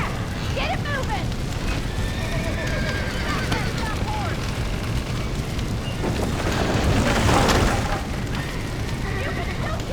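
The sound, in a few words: horse neighing and hooves in video game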